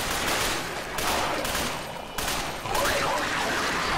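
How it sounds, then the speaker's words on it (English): Automatic gunfire in Dark Sector comes in short bursts, loud bursts of rapid shots separated by brief gaps, with game ambience underneath. "Firing in short bursts always prevails."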